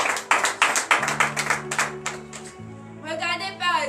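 A church congregation at a morning prayer service claps in rhythmic acclamation, sharp close hand claps repeating steadily while sustained organ or keyboard tones hold underneath and a voice rises near the end.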